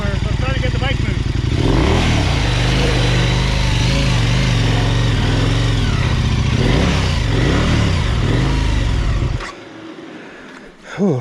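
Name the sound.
Yamaha Tenere 700 motorcycle engine running as bike is moved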